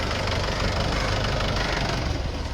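A tractor engine idles steadily up close, a dense, unbroken low rumble with a faint knocking texture and no voices.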